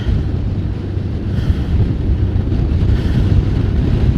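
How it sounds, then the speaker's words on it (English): Steady, loud wind buffeting the microphone while riding outdoors in winter, a continuous low roar with gusty swells and no talking. "wasn't windy in our town, but riding out here, it just started."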